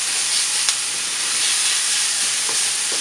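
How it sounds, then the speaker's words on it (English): Minced garlic and salt fry in hot oil in a pan for a seekh kabab curry, giving a loud, constant sizzle and hiss with a few faint stirring clicks. "Now I will add minced garlic and salt to taste. And I will fry it just for a few seconds."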